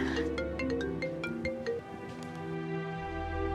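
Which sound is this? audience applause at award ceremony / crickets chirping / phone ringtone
phone ringtone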